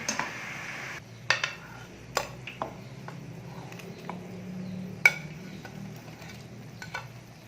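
Gulab jamun dropped one by one into a pan of sugar syrup over a low flame, giving soft splashes and light clinks of a spoon against the pan over a steady low simmer, with no talking.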